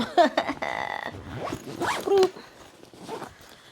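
Zipper on a camera sling bag's front pocket pulled in several quick, close raspy strokes, with short pauses between pulls.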